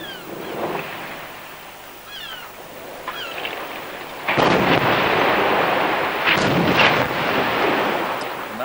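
Explosive demolition of Poole power station: quiet, distant ambience with faint cries, then a sudden heavy boom midway that rolls into a long, loud, crackling rumble fading slowly.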